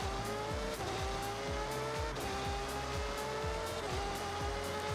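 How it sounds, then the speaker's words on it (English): A Lexus IS200 race car engine screams at high revs, shrill and F1-like, rising through the gears with repeated quick shifts, loud and steady, no talk. "That sounds like a F1 car"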